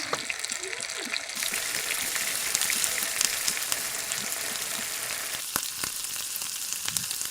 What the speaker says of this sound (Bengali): এখন মাছগুলাকে সরিষার তেলে কিছুটা ভেজে নিব। একটা একটা করে তেলের উপর ছেড়ে দিচ্ছি।